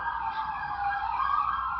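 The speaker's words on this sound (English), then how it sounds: "Here a siren." Emergency siren wailing steadily, a high tonal sweep rising and falling over a couple of seconds, fairly faint and distant-sounding with no voices.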